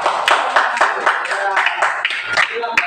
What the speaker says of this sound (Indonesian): Aplaus dulu untuk kelompoknya Golden.